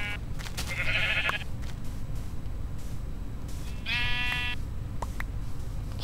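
Two short, clear sheep bleats from the Minecraft video game, spaced a few seconds apart, over a low background rumble with no talking.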